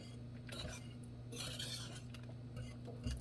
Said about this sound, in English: And just stir it.